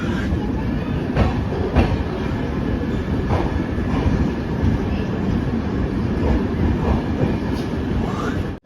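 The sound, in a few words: Nandan Kanan Express train, 3rd AC coach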